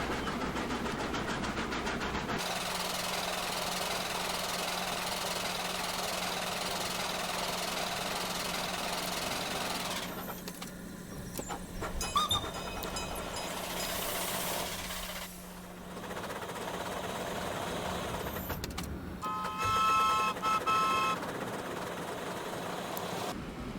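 A locomotive in Transport Fever 2 rolls downhill at a slow 20 mph, its steady engine drone and rhythmic knocking running throughout with a constant low hum, broken by brief quieter gaps and a few higher mechanical tones.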